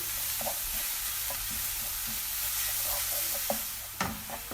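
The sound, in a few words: ingredients frying for St. Lucian dahl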